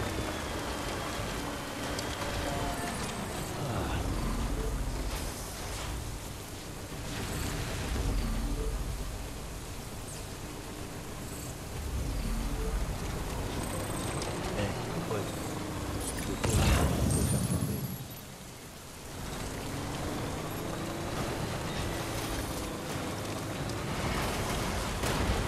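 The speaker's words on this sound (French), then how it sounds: "Allez, enlevez-moi cette pluie." Rain falls in the video game Death Stranding, a steady wash of soft patter and hiss that swells and dips slightly, with a brief louder gust midway.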